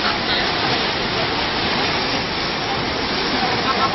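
Floodwater rushes past in a steady, loud broadband roar, continuous and unbroken, close by and with no clear voices.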